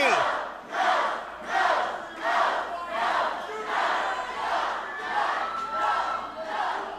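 A wrestling crowd at a steel cage match rhythmically chants in unison for Windy City AC, loud rhythmic bursts about twice per second repeating steadily.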